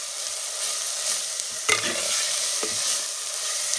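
Country chicken curry fries in a pan while being stirred, a constant close sizzle broken by a sharper scrape of a spoon near the middle, with no talking.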